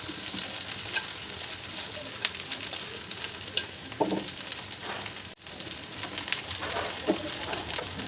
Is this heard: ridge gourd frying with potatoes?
yes